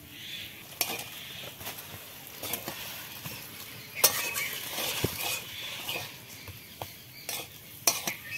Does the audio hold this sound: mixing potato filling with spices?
yes